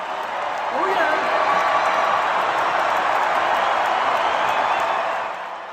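A large crowd roars and cheers in the O2 Arena in London as Ringo Starr walks on stage, a dense, sustained wash of noise with faint whoops, swelling after a second and easing off at the end.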